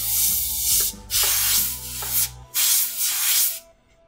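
Airbrush spraying pink paint over a stencil on a t-shirt, heard as several steady hissing bursts of a few seconds each, close and fairly loud, with short pauses between them.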